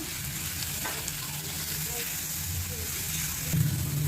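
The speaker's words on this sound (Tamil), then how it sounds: "நாம் வெங்காயத்தை நல்லா ப்ரௌனாக வதக்கலாம்" Steady sizzling of onions sautéing until brown in a pan, a continuous close hiss with a brief louder burst near the end.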